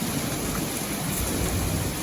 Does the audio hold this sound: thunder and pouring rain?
yes